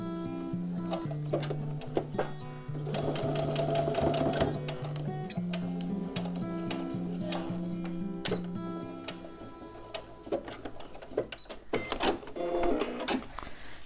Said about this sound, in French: Pour faire une petite surpiqûre à 1 ou 2 mm des bords.